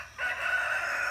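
Silkie chickens in a backyard coop give a short, close call that comes in sharply and holds steady, more like a crow or drawn-out squawk than soft clucking.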